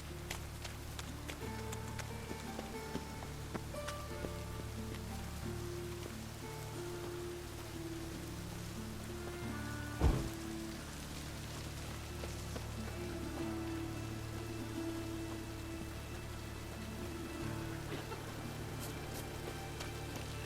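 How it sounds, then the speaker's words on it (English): Steady rain falls in The Witcher 3: Wild Hunt, a constant wash of drops over a game scene with music underneath, and a single brief thump about halfway through. "it's raining again."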